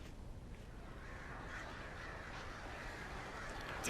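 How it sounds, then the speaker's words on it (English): Crows caw in the video game Alan Wake, a few faint, distant calls over a low, murky ambient rumble, quiet throughout. "Damn birds!"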